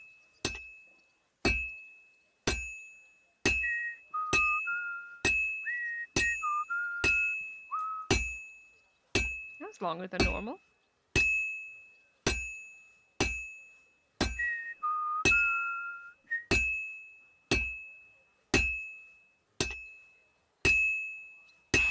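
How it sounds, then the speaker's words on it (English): Henry, a character in Kingdom Come: Deliverance II, whistles a few short, broken tune phrases that stop quickly. Regular clinking beats run throughout, with a single voice speaking briefly midway. "Which is why Henry's whistling always stops really fast."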